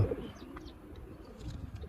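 Pigeons kept at a mosque coo softly in a brief, faint snatch of low, rounded calls over quiet background noise.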